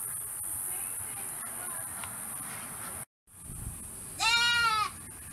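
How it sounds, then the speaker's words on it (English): A goat bleats once, a loud wavering cry near the end, after a stretch of steady outdoor hiss and faint rustling. "In spite of all of these goats."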